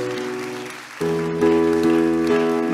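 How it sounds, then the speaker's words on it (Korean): Church congregation clapping in praise at the close of a sermon, a soft rain-like patter of applause beneath sustained keyboard chords that swell in after the first second. "우리 하나님께 영광의 박수를 드리겠습니다."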